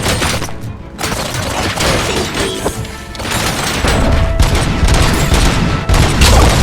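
Sustained gunfire and explosive booms from a RoboCop: Rogue City firefight on Xbox Series, loud and dense throughout with crashes and thuds layered over continuous game noise.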